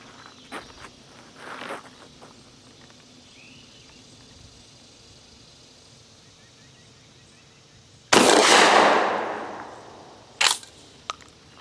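A GForce GF12 pump shotgun fires a single loud buck and ball load late on, leaving a short decaying boom and then a couple of sharp clicks. Faint outdoor ambience and light handling noises come before the shot.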